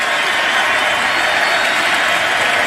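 A basketball arena crowd at a game involving Andre Iguodala roars in a dense, continuous wash of cheering, shouting and applause that fills the whole space without letting up.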